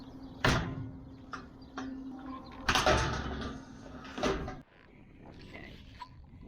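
Several clunks and scraping knocks as a small lid at the top of a farm structure is opened, irregular bursts of varying loudness close by with quieter rustling between.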